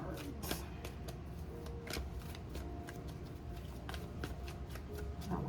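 Tarot cards being shuffled by hand, a close, continuous riffling and flicking with regular soft slaps, steady throughout.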